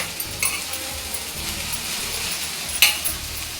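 Okra (bendakaya) frying in a pan in a home kitchen, a low steady sizzle with a few light utensil clinks and scrapes against the pan.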